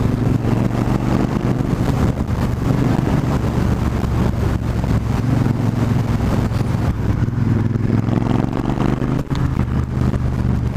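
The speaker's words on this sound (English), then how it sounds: "The parallel twin with the two pipes sticking out the back" A 2020 Triumph Rocket 3 R drones continuously while riding, a loud, steady low engine and exhaust rumble blended with heavy wind buffeting, close and without talk.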